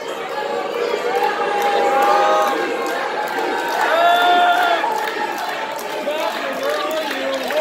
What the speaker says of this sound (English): The crowd.